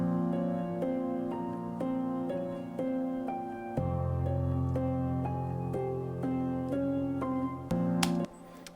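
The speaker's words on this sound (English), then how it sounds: "Then eventually we get another piano that's layered on top, and it's just a top melody." A layered piano plays a simple right-hand top melody of sustained single notes in a slow, even line over a deeper held bass that enters midway, with no talking.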